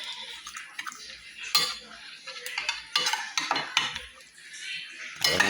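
A mixture is stirred in a pot before it goes onto a gas stove, with a metal spoon scraping and clinking against the sides in irregular, close strokes and no voices.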